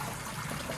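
Water from a Step2 Tropical Rainforest toy water table, pushed up by a plug-in pump through a hose, spills steadily over the top in a continuous close trickle and splash, with no voices.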